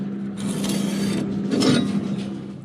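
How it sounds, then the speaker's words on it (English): A steel flat bar is clamped onto a steel trawler deck, producing close metallic scraping, rattling and clamp mechanism clicks over a steady low hum, with a louder stretch near the end. "My plan now is to clamp this bit of flat bar to the top here"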